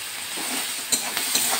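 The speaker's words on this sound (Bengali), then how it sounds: "মাছ ভাজার তেলেই কিন্তু আমি পেঁয়াজগুলো দিয়ে দিলাম" Sliced onions sizzle in leftover fish-frying oil in a kadai, a steady bright hiss with a few clinks of stirring near the end, no speech.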